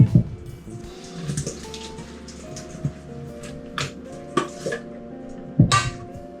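Cauliflower pieces tossed with sauce in a bowl, giving irregular clattering knocks and scrapes of bowl and spoon, fairly quiet with soft wet rustling between the hits.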